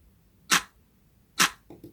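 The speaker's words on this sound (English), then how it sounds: "Bit of a higher pitch." Higher-pitched clap drum sample from an electronic track, struck twice as crisp, bright snaps roughly a second apart and followed by two quieter taps, heard alone with no voices.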